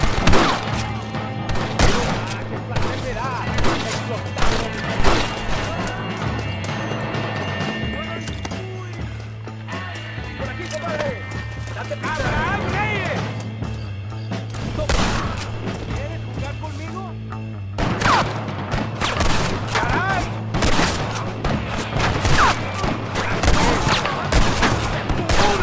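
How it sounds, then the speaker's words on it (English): Rapid bursts of gunfire in Red Dead Redemption, dense volleys of sharp shots and fusillades fired close by, recurring throughout with short lulls, accompanied by shouted voices and a background music drone. "Mira cómo cantan las balas. Escúchalo."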